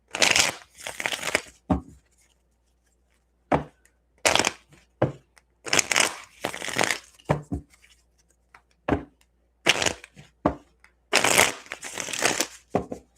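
Tarot cards being shuffled in repeated quick bursts, crisp riffling and snapping with short pauses between, close up and fairly loud.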